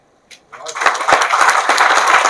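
Audience applause at a motivational lecture for UPSC students given by an IPS officer, swelling quickly into sustained, dense clapping from a large crowd that fills the hall and continues steadily to the end.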